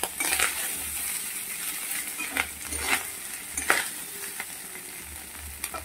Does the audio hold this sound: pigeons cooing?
no